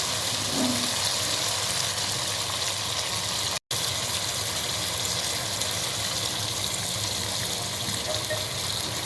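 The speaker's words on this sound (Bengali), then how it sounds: "এখন পরিমাণ মতো পানি দিচ্ছি" Water pours steadily into a pot of beef cooking with chana dal, a continuous broad rushing gush that cuts out for a brief moment before resuming, loud and close with no speech.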